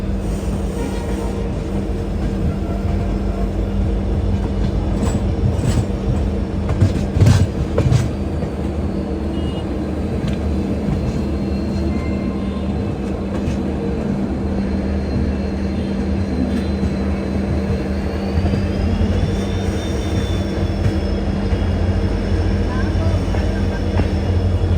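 A train pulls into Dibrugarh Junction railway station, a loud continuous low rumble and rolling rattle persisting throughout, with a faint whining tone rising near the end.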